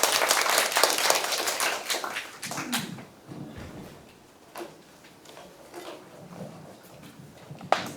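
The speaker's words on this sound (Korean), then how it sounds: "박수로 맞으시면 고맙겠습니다" Forum audience at a Gyeonggi food strategy meeting claps in welcome, a fairly loud burst of applause that tapers off within a few seconds, leaving scattered claps and faint room noise.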